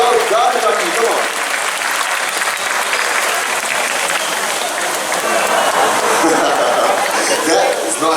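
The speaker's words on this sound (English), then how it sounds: "He needs a louder round of applause" Audience at a bird park show applauds and cheers steadily for several seconds, with chatter and scattered chuckles mixed in.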